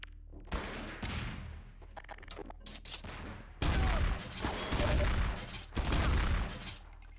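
AK rifle gunfire in a shooter video game: sustained loud bursts of automatic fire in several long volleys, close and harsh, with brief lulls between them.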